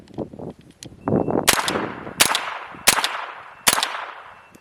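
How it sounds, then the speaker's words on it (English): A Tippmann M422 Micro Elite bug-out pistol fires four loud, sharp shots at a steady pace, each crack ringing and tailing off, after some brief handling noises. "you can actually just shoot it, point it out,"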